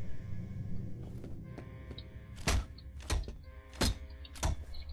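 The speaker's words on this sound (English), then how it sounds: "But I can't punch off this lock." Lock being punched in the first-person shooter F.E.A.R.: four heavy, close thumping impacts spaced about a second apart over a steady game background hum, with a few lighter knocks earlier.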